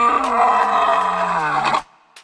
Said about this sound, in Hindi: अचानक ही उसे शेर का दहाड़ सुनाई दिया